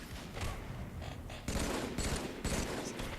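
Sustained gunfire from a Halo 3 ranked team slayer match on the Pit keeps up a steady rattle, with sharper louder shots breaking through about every half second toward the end.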